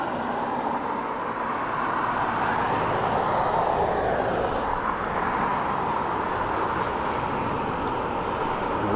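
A Ryanair airliner at Dublin Airport, a broad, steady jet roar that swells gently in the middle and holds throughout, heard from a distance.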